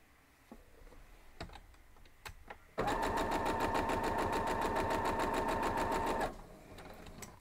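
A sewing machine runs in one steady burst of rapid stitching through a quilt block, loud and continuous for about three and a half seconds, with quieter handling clicks before and a brief tail after.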